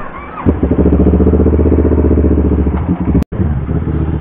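A Kawasaki NK650 motorcycle engine runs steadily at close range, a loud, even rumble with a brief dropout near the end.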